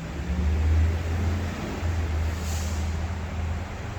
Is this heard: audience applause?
no